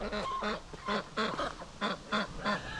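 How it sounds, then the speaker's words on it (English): A group of ducks quacks loudly nearby in a rhythmic run of about eight nasal honking calls, alone without speech. "So if you guys hear a bunch of quacking in the background,"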